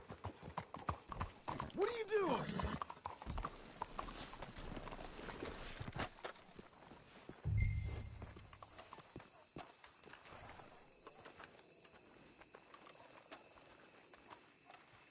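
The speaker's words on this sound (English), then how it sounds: "Let's hitch the horses up ahead." Horses walking in the Red Dead Redemption 2 video game, rapid hoof clip-clops close by, with a brief whinny and some voices talking, the steps fading to a quieter patter toward the end.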